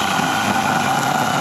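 A mini cordless chainsaw cuts through a tree root in the ground, giving a steady, loud, high-pitched motor whine that holds evenly through the short stretch with no talk.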